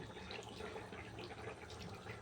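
Water splashes and trickles steadily while dough is rinsed and washed by hand, a close, continuous wet pouring and sloshing sound with no talk.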